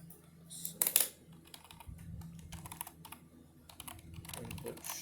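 Typing on a computer keyboard while writing Python code: short bursts of fairly close key clicks, strongest near the start, with quieter scattered keystrokes and low room noise continuing throughout.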